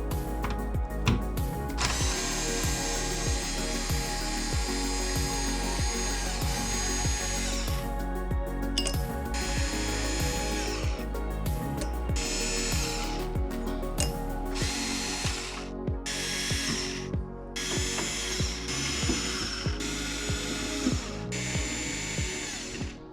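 Power drill or driver backing screws out of the engine bay trim on a Corvette C8, a long series of whirring bursts with short pauses and clicks between, close and loud with no talking.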